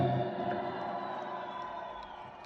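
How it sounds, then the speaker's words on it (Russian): Applause and cheering from a crowd at a quarantine concert, a steady wash of distant clapping and shouting that holds evenly, fading slightly toward the end. "спасибо за бурные аплодисменты"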